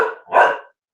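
A dog barks indoors with two quick, loud, close barks in under a second, then silence.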